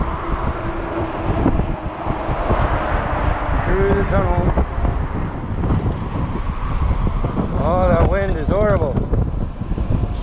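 Wind roars steadily across the microphone while riding an Ecotric 20-inch 48V fat tire e-bike into a headwind, a loud continuous rush with traffic-like rumble and faint tonal whines partway through.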